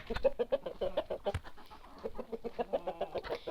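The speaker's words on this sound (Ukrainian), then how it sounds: "маю вам можливість показати наше невеличке пташине царство" Chickens and roosters in a small backyard poultry yard cluck in quick, close, overlapping bursts, with one sharp louder call near the middle and steady busy flock chatter throughout, no talking.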